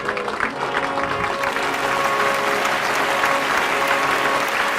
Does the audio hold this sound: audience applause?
yes